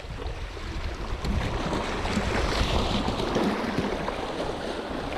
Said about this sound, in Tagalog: Tumataas ang tubig. Parating ng malalaki.